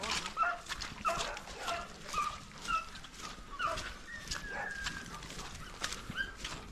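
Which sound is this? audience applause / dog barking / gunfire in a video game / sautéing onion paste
dog barking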